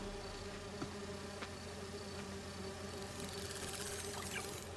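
Buzzing of virtual bee wolves in the Spider-Man 2 video game, a steady insect drone held under a constant hum, fairly faint and continuous throughout with no voices.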